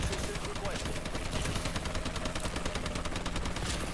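Rapid, evenly spaced shots from a semi-automatic EPM3 in the video game Call of Duty Advanced Warfare, loud and continuous over a constant game background.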